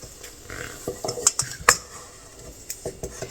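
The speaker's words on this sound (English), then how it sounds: "You just want to combine it together, and you just want to mix until combined." A spoon mixes biscuit dough in a bowl, giving a run of close, irregular scraping clinks and knocks against the bowl, with no talk.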